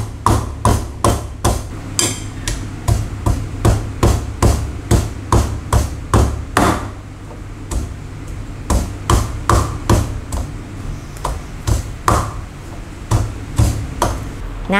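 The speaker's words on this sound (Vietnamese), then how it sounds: "Mình dùng chày mình giã nát cái gừng nha các bạn." Repeated heavy thuds of a pestle pounding ginger in a mortar, steady and rhythmic at close range, with a brief pause midway before the pounding resumes.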